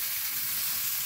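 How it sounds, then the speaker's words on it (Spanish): Beef chorizo sausages fry in their own rendered fat in a pan with no oil added, giving a steady, close sizzle that runs unbroken, with no talking. "estamos friendo los choricitos. Miren. No le colocamos aceite, ¿verdad? Ellos solitos van despidiendo su grasita"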